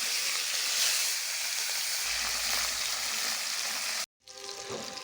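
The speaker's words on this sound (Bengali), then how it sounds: "গরম তেলে মাছটাকে ডুবা তেলে ভালো করে ভেজে" Rohu fish deep-frying in hot oil, a loud, steady sizzle and crackle heard close for about four seconds before a brief cut and softer sizzling.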